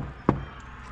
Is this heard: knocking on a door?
yes